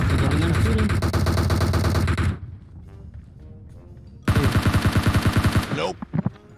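Rapid automatic rifle fire in PUBG Mobile, likely from an M416 or SCAR-L, bursts loudly for about two seconds, pauses, then returns in a second sustained volley with a few trailing shots.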